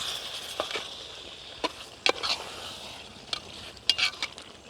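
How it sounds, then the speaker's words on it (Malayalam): Karaikudi chicken curry stirred in a pan gives a soft, steady sizzle broken by scattered spoon scrapes and clinks against the pan. "ഇതൊന്നിങ്ങനെ ഇളക്കി കൊടുക്കുമ്പോൾ"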